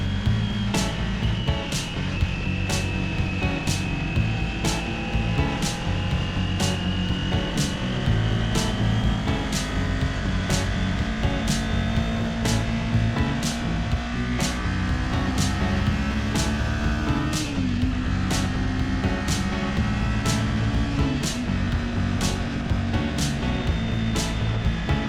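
A Kawasaki Ninja 400 motorcycle is ridden through the hills, its engine a steady droning hum with a regular ticking pulse, pitch shifting only slightly as the rider works through the gears.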